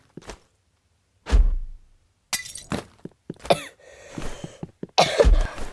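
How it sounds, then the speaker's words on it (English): Several separate coughs from one person, sharp and close, come in short bursts spread across a few seconds with silent gaps between them, while faint game sounds play underneath. "I also have a bit of a cough."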